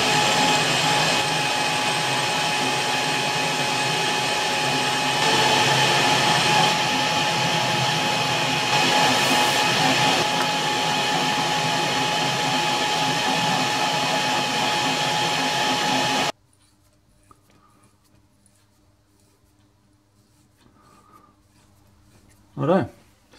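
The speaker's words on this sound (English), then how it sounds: "we'll get that in and start the machine" A machine runs loud and steady while cutting an 8mm all-thread rod for a Kant twist clamp, a continuous whining roar that cuts off abruptly, leaving near-silence with a few faint knocks and one sharp clunk.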